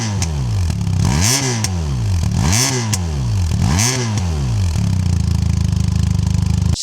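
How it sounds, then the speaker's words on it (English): A Benelli TRK 502 X motorcycle with a polished silver exhaust, revved close up in three sharp rising-and-falling blips before settling into a steady, throbbing idle. "shall we have a listen to the note this engine makes?"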